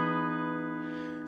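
A sustained chord on an electric guitar through a humbucker pickup rings steadily and fairly loud, its bright, dense harmonics holding evenly for the whole moment without any talking.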